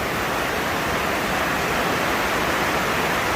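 Flood water rushing past a workshop, a loud, constant broadband roar of flowing water with no breaks.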